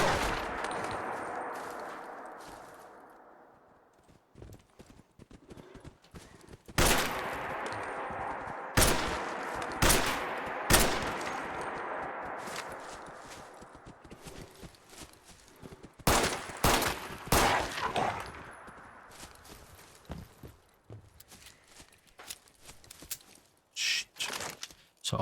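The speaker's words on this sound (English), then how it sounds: "So unsuppressed gunfire does attract zombies." Bursts of rapid gunfire in Fallout 4 crack out in clusters over a quiet, rumbling background, with short pauses between volleys and a few isolated shots.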